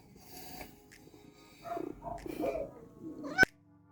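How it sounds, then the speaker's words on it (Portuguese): A house cat meows several times in a row in a quiet room, with short close-up calls in the middle and a sharp click near the end. "Pausa pro gatinho."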